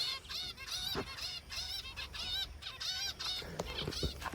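Harsh, repeated guinea fowl calls in a steady chattering series, several birds overlapping at moderate distance with no pause for most of the stretch.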